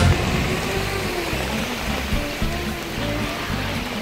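Heavy rain pours while water rushes and churns steadily, joined by a low rhythmic mechanical thrum, loud and unbroken throughout.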